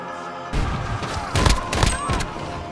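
Gunfire in Call of Duty: Modern Warfare 2v2 multiplayer, several loud close shots in quick succession with heavy booming peaks after a brief quiet lead-in.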